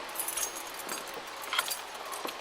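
Metal keys jangle and clink softly in several small bursts, close by and fairly quiet, with no talking.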